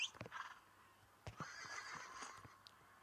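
A horse in the video game West Gunfighter gives a clear whinny, followed by soft hoof clip-clops and another drawn-out neigh, fairly close and alone without talk.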